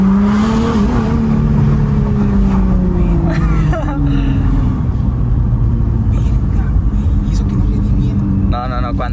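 Nissan sports car engine roaring under hard acceleration as the turbos build, a loud sustained drone sweeping in pitch close by, with a person talking over it throughout.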